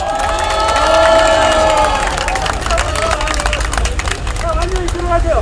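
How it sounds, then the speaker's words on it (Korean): Crowd at a Seoul political campaign rally applauding and cheering, loud clapping mixed with shouts and excited voices, with a stretch of singing or chanting voices early on, dense and close throughout. "여러분 격려의 박수 한번 부탁드립니다"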